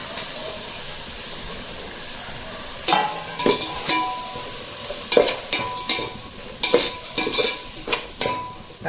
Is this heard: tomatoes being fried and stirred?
yes